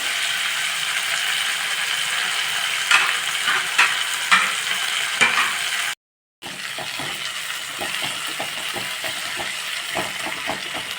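Chopped tomatoes frying and breaking down in a pan while capsicum rice is made, giving a continuous close sizzle with scraping stirs. A brief silent gap splits it before the sizzling resumes.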